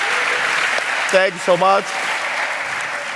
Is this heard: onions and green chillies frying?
no